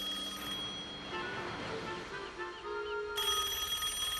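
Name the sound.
telephone booths ringing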